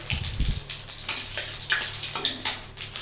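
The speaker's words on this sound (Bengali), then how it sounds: "তারপরে আমি ওই তেলের মধ্যেই জিরা আর শুকা লঙ্কা তেলে দিয়ে দেবো" Cumin seeds and dried red chilies hit hot oil in a home kitchen, giving a close, crackling sizzle with sputtering bursts that continues throughout.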